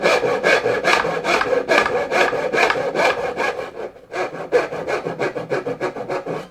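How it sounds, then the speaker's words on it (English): A hand saw cuts wood for a dovetail joint in steady back-and-forth strokes, a close, rhythmic rasp with a brief pause midway before sawing resumes. "The main thing is to make sure that the saw is square across the job."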